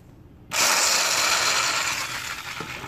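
A socket wrench ratchets in a fast, continuous clicking burst that starts abruptly and fades slightly over a few seconds, close and fairly loud with no talk.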